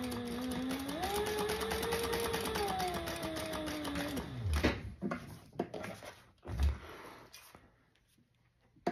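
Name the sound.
sewing machine stitching across bottom of slot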